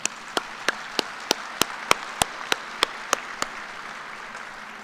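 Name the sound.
audience applause for the platform party at a commencement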